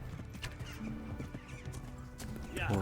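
A horse in the medieval game Kingdom Come: Deliverance whinnies over a soft clip-clop of hooves, fairly quiet, while someone speaks briefly over it.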